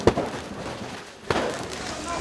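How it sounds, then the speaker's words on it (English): Fireworks fired by protesters toward police during the 2013-2014 Ukrainian unrest, two sharp loud bangs about a second apart over a rumbling crowd din outdoors. "The protesters are shooting fireworks now towards the police."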